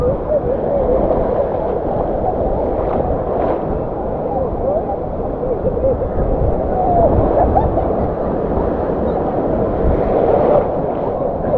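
Stormy Black Sea waves roll onto the beach at Anapa, a continuous low, rumbling wash of surf and wind that stays steady and fairly loud throughout.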